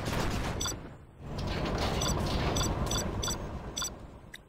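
Gatling tank firing in the video game C&C Generals, a sustained loud rattling burst of rapid-fire shots with a brief pause before the stream resumes.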